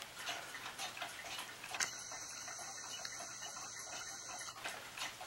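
Handmade clock with its movement in a tiny black wooden case, ticking in a quiet, steady, even rhythm close by, with a faint high ringing tone partway through.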